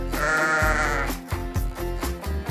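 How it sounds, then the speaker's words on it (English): Sheep bleating in a children's farm animal song, a wavering baa at the start followed by rhythmic musical backing with regular beats, fairly loud and close. "It's a sheep."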